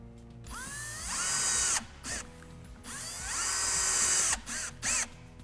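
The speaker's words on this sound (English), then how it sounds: "Now I can pop these two screws into place" A power drill drives two screws in turn to fix a bracket, giving two rising whines of a motor spinning up under load, each ending abruptly, followed by brief bursts of the trigger.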